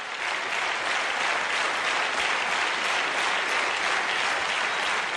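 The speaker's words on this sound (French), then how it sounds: "Être applaudi par 5 ou 600 personnes" Dense, steady applause from an audience of five or six hundred people, loud and sustained without a break from start to finish.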